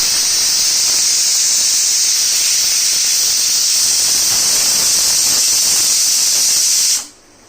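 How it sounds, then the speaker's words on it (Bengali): A pressure cooker on a gas stove, cooking dal, lets off its whistle in a loud, steady, high steam hiss that holds for about seven seconds before cutting off abruptly. "একটা সিটি উঠে গেল"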